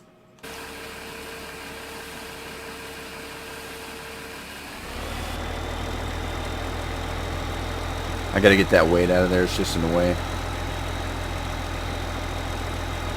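A tractor engine idles in the video game Farming Simulator 2015, a steady low drone that steps up in level midway and then holds, with someone talking over it briefly.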